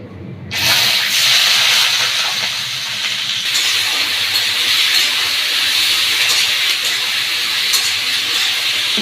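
Sugar, chopped onion and capsicum hit hot oil in a pan for dry chilli chicken, setting off a loud, steady sizzle that bursts in abruptly and keeps hissing strongly without a break.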